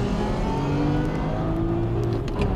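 Several JDM four-wheel-drive race cars, among them an Evo 7 and a GTR, launch hard from a standing start on a circuit grid. Engines rev loud and steady in a dense, continuous roar.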